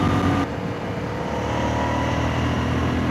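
An Ibex 450 motorcycle's exhaust heard while riding, a steady moderate engine drone mixed with wind rush, continuous and close with no speech.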